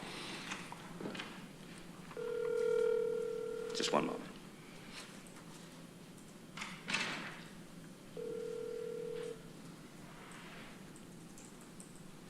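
A telephone call is placed during a county legislature meeting: two steady electronic tones sound for a couple of seconds each, separated by a gap, with voices talking and a few thumps in the room.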